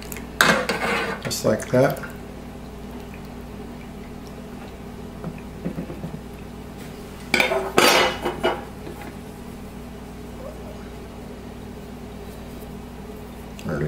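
Soft pretzel dough set into a baking pan with clattering metal knocks and scrapes in two short bursts, close and fairly loud, while someone briefly speaks.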